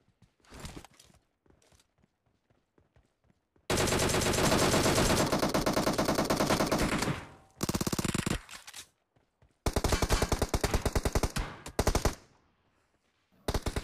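Automatic gunfire in PUBG Mobile, played on a Redmi Note 8 Pro, rattles in loud sustained bursts separated by short quiet gaps, with a few sparse shots at the start.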